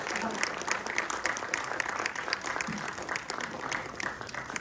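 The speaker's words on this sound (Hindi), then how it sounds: "जोरदार तालियां बजती रहनी चाहिए।" An audience at a yoga conference claps in dense, continuous applause that stays loud and even from start to end, with a voice faintly under it.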